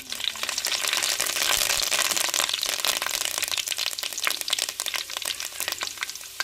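Fenugreek seeds and curry leaves, along with mustard seeds and urad dal, fry in hot oil for a dried-fish curry, giving a dense, loud, continuous crackle and spatter that eases slightly toward the end.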